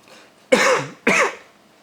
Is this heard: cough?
yes